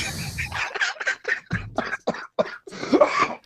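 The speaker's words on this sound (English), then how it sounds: "Oh God, I'm coughing." A person coughs repeatedly in a rapid string of about ten harsh, close bursts, with short gasps between them.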